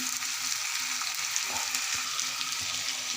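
Spices and ginger paste frying in a pan: a continuous dense hiss of sizzling oil, close and even, with occasional faint stirring knocks.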